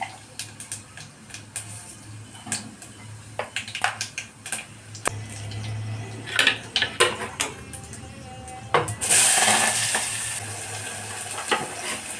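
Semolina roasting in a pan for upma, with scattered clinks and scrapes of stirring against the pan, then a louder hissing rush near the end; no talk.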